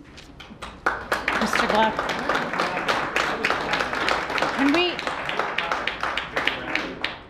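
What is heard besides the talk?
audience applause at a congressional debate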